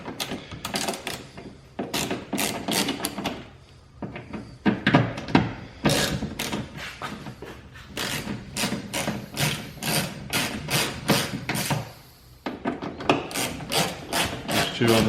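Ratchet removing T30 Torx screws from a BMW E70 X5 door, close rapid clicking bursts in repeated spells broken by brief pauses, with light rubbing and scraping between strokes.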